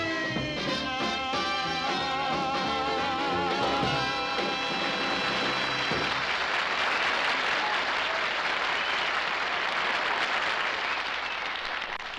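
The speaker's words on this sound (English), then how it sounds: "listen to the applause" A sung tune with instruments plays out on a sitcom stage, then a studio audience breaks into loud, continuous applause that fills the second half without letting up.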